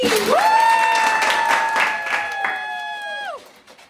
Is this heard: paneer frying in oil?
no